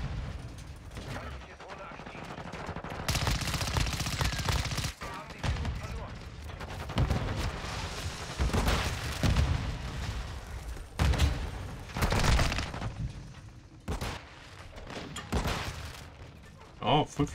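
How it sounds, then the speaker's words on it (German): Rapid, loud bursts of pump-shotgun fire with incendiary rounds in Call of Duty: Modern Warfare II Warzone 2.0 crack repeatedly over a steady rumble, with a voice talking beneath the shots. "Pumpgun mit Feuermunition, wir lieben es."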